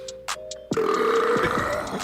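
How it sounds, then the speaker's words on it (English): One long, loud, close burp rumbles for over a second after a few short tones at the start, with no talking. "I love this burp."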